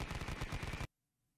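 A Tommy gun fires one rapid, loud burst of about a dozen close shots, then cuts off abruptly into silence, in a JoJo's Bizarre Adventure anime scene.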